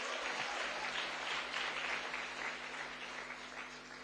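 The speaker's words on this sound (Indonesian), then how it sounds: "berikan tepuk tangan untuk Tuhan" A church congregation at a Sunday service breaks into dense, steady applause, a continuous wash of many hands clapping heard from some distance and fairly faint.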